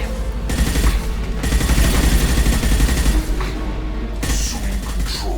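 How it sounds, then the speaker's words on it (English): Heavy gunfire in the video game Mass Effect 2, dense overlapping bursts of automatic fire and booming shots that run almost without pause, loud and close, with a brief lull near the end. "Watch for heavy fire."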